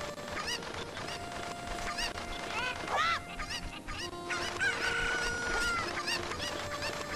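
Chickens cluck and squawk repeatedly in Kakariko Village in The Legend of Zelda: Ocarina of Time, a busy run of close, bright calls with a few longer honking cries, over steady game background sound.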